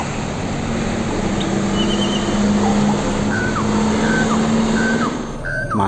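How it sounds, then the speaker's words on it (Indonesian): A toy race car gives off its electronic engine sound effect. A steady motor hum plays with a few short chirping tones over it, loud and close. "Wow, yang ini mobil keren."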